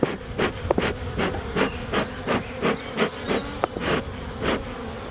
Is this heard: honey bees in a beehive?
yes